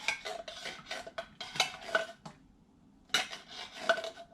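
Two cans of tomato soup emptied into a pot on a home stove, with clinking metal, scraping and glugging bursts in two separate runs split by a short pause, close and moderately loud.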